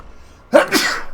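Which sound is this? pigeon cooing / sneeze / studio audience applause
sneeze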